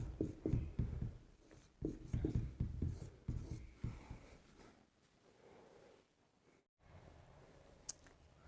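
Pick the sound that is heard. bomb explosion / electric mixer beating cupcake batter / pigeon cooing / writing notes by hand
writing notes by hand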